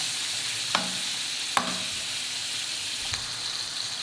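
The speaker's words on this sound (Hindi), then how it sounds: "हमने तकरीबन इसको 5 मिनट इसी तरह ऑयल में फ्राई करना है बहुत अच्छा सा।" Beef liver (kaleji) sizzles steadily in oil on a tawa, a constant crackling fry punctuated by a few soft stirring clicks.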